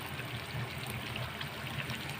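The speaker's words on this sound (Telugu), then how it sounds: "నేను కొద్దిగా వాటర్ పోసుకుందాం అనుకుంటున్నానండి." A little water is poured into a pan of stuffed brinjal curry, a soft, quiet, continuous trickle lasting a couple of seconds.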